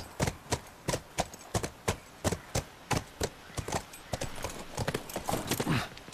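Horse hooves clip-clop in steady, evenly spaced beats throughout the video game The Last of Us, each step crisp and close, with the pace quickening and thickening toward the end.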